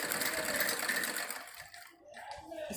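A sewing machine running a double line of stitching along a salwar hem, a close, steady whirring that slows and stops briefly before starting up again.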